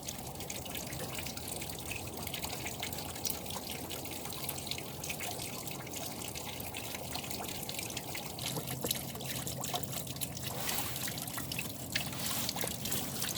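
Water trickles and splashes steadily while ashes are washed out of a gold pan, a soft continuous rinsing sound heard close and alone.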